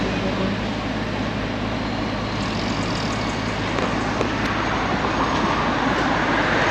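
A train rolls past beside a busy highway in Yangon, a continuous loud rumble with steady low hum and broadband rushing noise that stays constant throughout.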